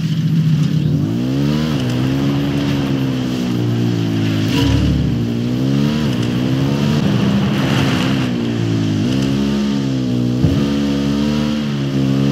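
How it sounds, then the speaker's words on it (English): A motorcycle in the Ghost Recon Fallen Ghosts video game, with a steady loud engine drone that rises and falls in pitch as it revs and shifts while riding. "I'm riding the motorcycle."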